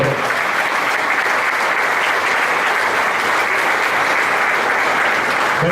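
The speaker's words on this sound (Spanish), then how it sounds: "Dale un fuerte aplauso al Señor." A church congregation applauds loudly and steadily through the whole stretch, a dense, sustained wash of clapping at a Hallelujah Night 2015 service.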